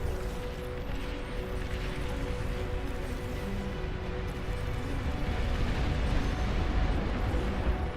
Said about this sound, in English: Those cowards have long-range plasma cannon.